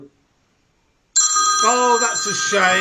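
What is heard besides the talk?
telephone ringing, incoming call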